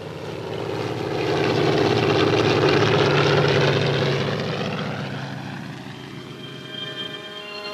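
A World War II propeller transport plane lands on a new beachhead airstrip in France, its loud engine drone swelling to a peak as it passes, then fading.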